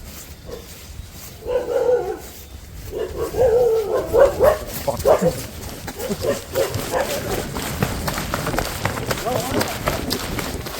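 Two big dogs bark in a series of deep, loud woofs with some whimpering, close by in Vagamon, amid noisy movement and background voices.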